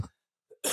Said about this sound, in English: I didn't want to cough directly into the mic.